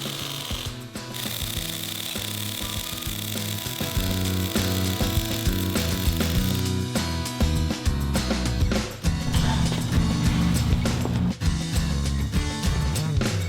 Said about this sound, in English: The bolts were tightened up